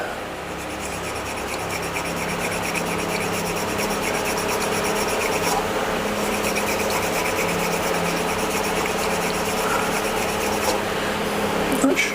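A synthetic knot shaving brush handle is dry sanded while it spins on a wood lathe, giving a continuous, close, even rasping hiss that runs unbroken for the whole stretch.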